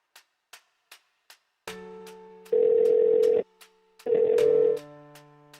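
A mobile phone call goes unanswered: a few short dial clicks, then a steady tone, followed by two long loud electronic ringback bursts separated by a pause, alone with no voices.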